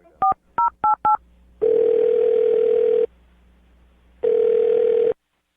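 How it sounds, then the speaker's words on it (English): A phone number is dialed with four quick touch-tone beeps, followed by two long, steady ringback tones separated by silence, clear and close on a phone line. "I'm going to dial her phone number right now"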